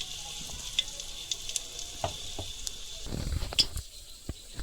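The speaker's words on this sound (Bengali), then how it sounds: "তেলটা গরম হওয়ার পরে আমি শুকনো মরিচ দিলাম" Dried red chilies dropped into hot oil in a pressure cooker, a light crackling sizzle with scattered pops that grows busier and louder toward the end, heard up close with no one talking.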